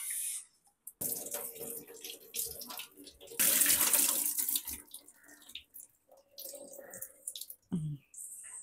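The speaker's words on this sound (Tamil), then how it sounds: "இந்த குழந்தைக்கு கொடுக்கறதுனால இது நல்லா ஒரு 4 to 5 டைம்ஸ் நல்லா வாஷ் பண்ணிக்க போகிறோம்." Rice being rinsed by hand in water for baby food, with close sloshing and swishing in a bowl and a louder burst of running or poured water midway, then quieter splashes.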